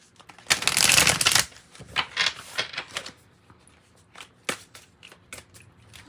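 Oracle cards are shuffled for a tarot reading, starting with a dense riffling burst followed by a series of shorter flicks and taps, close and fairly quiet.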